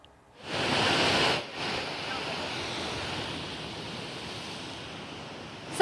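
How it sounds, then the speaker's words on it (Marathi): High-tide sea waves surge against the Mumbai coast in a broad, steady roar, with a louder rushing burst at first that settles into a continuous wash of surf. "सध्या आपण बघतोय की मुंबईमध्ये समुद्राला उधाण आल्याचं चित्र आहे"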